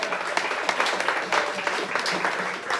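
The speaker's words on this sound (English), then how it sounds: "clap it up for Sam" A comedy club game show audience applauds steadily, a dense wash of clapping that holds at an even level throughout without pause.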